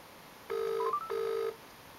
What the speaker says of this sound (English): Oh, and I can hear my phone ringing, so it's working perfectly.